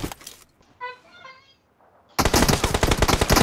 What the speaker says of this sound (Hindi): अरे ये फायर कर रहा